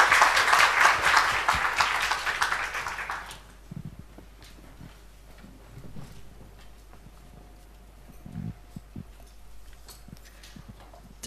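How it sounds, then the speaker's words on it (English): An audience at a sustainability investing forum in Thailand applauds a speaker for roughly three and a half seconds, then the clapping dies away into a quiet room with scattered soft footsteps and small movements. "Please give a big applause to Mr. Paul Herman."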